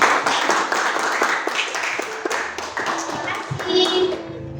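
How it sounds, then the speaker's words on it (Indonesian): Scattered hand clapping from a school audience at a junior high literacy event after a student's performance, with distinct claps and taps, some thumps, and voices murmuring underneath. "Kasih tepuk tangan dulu."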